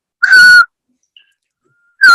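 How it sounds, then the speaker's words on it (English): A person whistles two clear tones, a steady held note lasting under half a second near the start and another beginning just before the end, with silence between. "let's not whistle because that actually doesn't"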